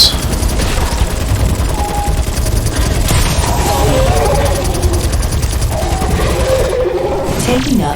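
Rapid bursts of gunfire from Earl's weapon in the video game Crucible, a dense, loud, sustained rattle of shots running almost the whole time with some game effects mixed in.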